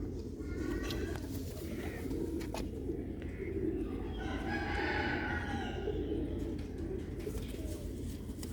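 Young pigeon chicks of a red-eyed Sialkoti breed call amid a steady murmur of birds, with soft cooing and chirps over a constant low background din, moderately close.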